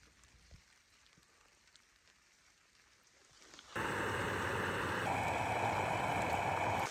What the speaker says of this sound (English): It was raining the next morning